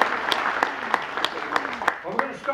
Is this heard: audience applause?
yes